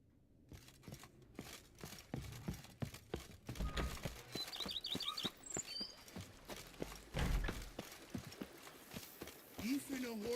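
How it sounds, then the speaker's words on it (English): Rapid rhythmic hoofbeats of a galloping horse in the video game The Witcher 2, steady and close, with a few snorts and scattered game sound effects. "Even a horse drops if you ride it at a constant gallop."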